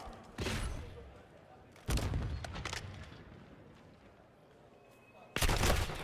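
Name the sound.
gunfire in a Call of Duty match (video game)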